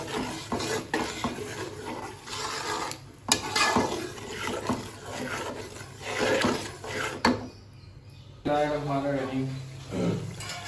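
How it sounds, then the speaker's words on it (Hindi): Onions frying lightly with spices in a pan for a masala bhindi dish, a continuous sizzle broken by frequent stirring scrapes and clinks of a spoon against the pan, with a brief lull near the end. "प्याज़ों को हमने बिल्कुल पकाना नहीं है, थोड़े से ही इसमें फ्राई करने हैं"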